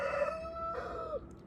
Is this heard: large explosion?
no